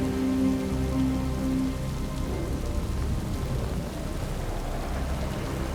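Rain falls steadily in the video game Death Stranding 2, a dense continuous patter with low rumbling beneath, holding an even loudness throughout with no voices.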